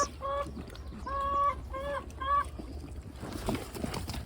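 Chickens cluck and squawk close by in several short bursts, followed by quieter rustling and shuffling.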